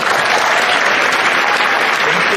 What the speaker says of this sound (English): Should we get a round of applause for him?